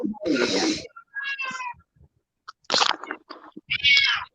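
A cat meows loudly and insistently indoors, several drawn-out calls in separate bursts with short gaps, close and prominent, with brief human sounds in between.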